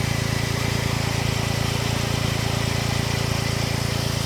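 A Smart Roadster sports car idles with a steady, even engine thrum, close and continuous with no revving, and no voices.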